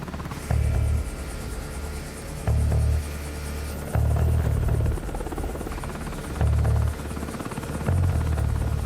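Military assault helicopter engines crank up in the Black Ops 2 video game, a loud rotor drone with pulsing low thumps swelling at regular intervals over a constant whine.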